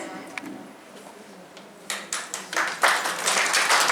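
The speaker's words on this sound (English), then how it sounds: "A big round of applause for our guest of honor" Applause breaking out for the guest of honor at a conference valedictory session: a few scattered claps first, then a swelling round of clapping from the audience in a hall.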